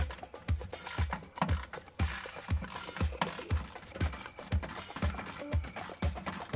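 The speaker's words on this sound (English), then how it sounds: "Now I'm gonna undo this bolt." Ratchet working steadily on a coilover bolt of a Mazda Miata during suspension work, with rapid, close, regular clicking strokes running continuously throughout.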